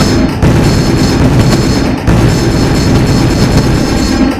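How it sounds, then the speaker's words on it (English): Loud artillery and musket fire in a battle sound effect, a continuous roaring barrage with rumbling booms and a sharp new burst of shots about two seconds in. "his speech was interrupted by the loud fire of artillery and muskets"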